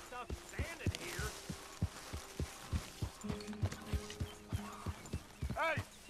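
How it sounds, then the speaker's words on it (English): Horse hooves clip-clop at a slow, steady walking pace in Red Dead Redemption 2, with even, fairly close beats and voices talking over them. "get that horse out of here"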